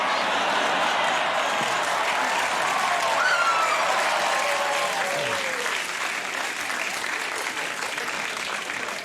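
A late-night talk show studio audience on Conan applauds loudly and continuously, a dense wash of clapping from a large crowd that slowly tapers, with faint voices mixed in.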